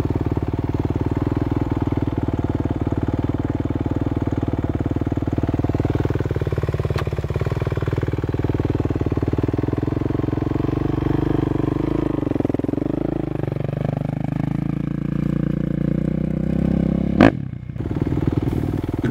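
A dirt bike engine runs steadily and close, its pitch rising and falling in gentle revs as the rider holds the clutch at the friction point and feeds a little gas, ending with a sharp clack.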